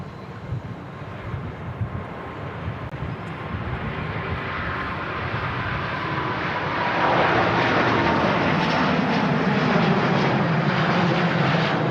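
Heavy Airbus A350 departing Manchester Airport, a broad jet engine roar that builds steadily and grows louder partway through, heard from a distance outdoors with no talk.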